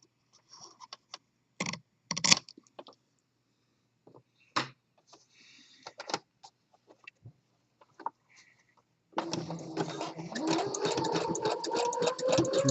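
A sewing machine runs a zigzag stitch over the end of waistband elastic, a steady whirring rattle starting after several quiet seconds of small handling taps and clicks, then continuing close and even to the end.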